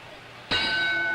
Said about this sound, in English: Round 6 finds La Starza in black trunks, somewhat slow to answer the bell.